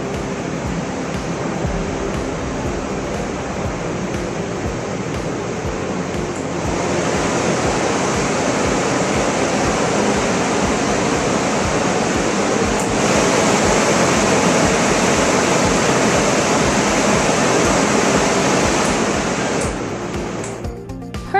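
Steady, loud rush of air from a commercial floor dryer blower, a continuous broadband roar that shifts slightly in intensity partway through before cutting off at the end, with no talking.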